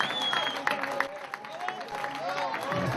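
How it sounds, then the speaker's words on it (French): Crowd applause and cheering at the Marseille podium of the 2007 Tour de France à la voile sailing race, a steady dense wash of clapping that continues under a loud announcer voice. "Applaudissements, mesdames et messieurs."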